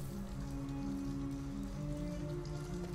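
Steady rain falls continuously in Detroit: Become Human on PS4, a dense patter of drops with a low hum underneath, even and unbroken throughout.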